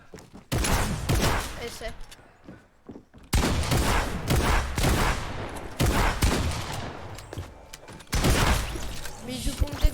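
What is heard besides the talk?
gunfire from a video game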